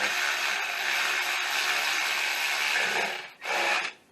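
A ratchet snugs throttle body and plenum bolts on a 2008 Acura TSX, a close, steady run of fine clicking that stops briefly, then resumes for a short burst.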